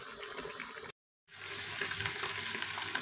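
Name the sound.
lamb frying in its own fat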